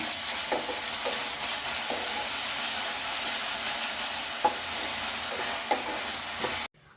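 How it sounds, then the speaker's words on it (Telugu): Ginger garlic paste fries with onions in a pan, a steady close sizzle running throughout with a few brief stirring scrapes, ending abruptly. "ఈ అల్లం వెల్లుల్లి పేస్ట్ కూడా పచ్చి వాసన పోయే వరకు ఫ్రై చేసుకోవాలి"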